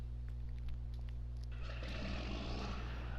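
John Deere 4440 tractor engine running in Farming Simulator 19, a steady low drone with a broad rev-up hiss swelling in from about halfway through, loud and close with no talking.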